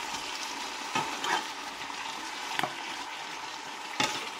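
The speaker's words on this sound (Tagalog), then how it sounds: "Haluin lang ng mabuti ang ating vegetables." Vegetables for a celery chicken soup stirred in a pot of broth, with steady soft sizzling and bubbling plus a few sharp scraping knocks of the spoon against the pot.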